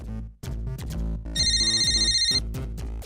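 A phone ringtone playing a loud electronic melody of repeated tonal notes, with a brief shrill trilling burst in the middle and a short gap near the start, heard alone without talk.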